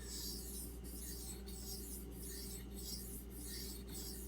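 A knife being sharpened on a hard Suehiro whetstone, giving a steady, continuous abrasive rasping in repeated strokes with brief breaks, close and moderately quiet, with no voices.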